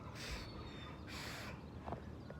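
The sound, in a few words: crows and seagulls calling outdoors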